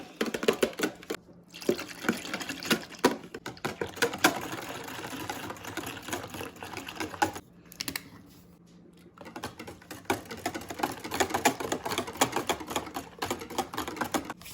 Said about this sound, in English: I'll just whisk it as I go.